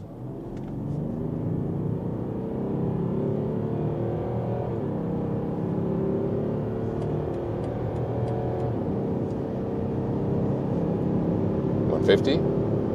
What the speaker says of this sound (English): That was very good acceleration here for the 3-liter 6-cylinder